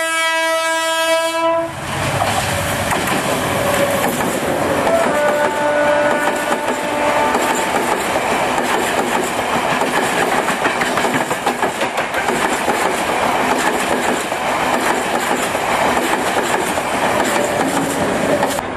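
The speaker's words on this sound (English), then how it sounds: "You've seen how close the trains come." A train horn blasts briefly, then a train rumbles past very close to shanty houses built beside the railway tracks, its loud roar and clattering wheels continuing steadily without pause.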